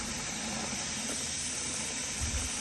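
Warm water runs steadily into a bleached sink, a faint, even hiss of flowing water with no voices.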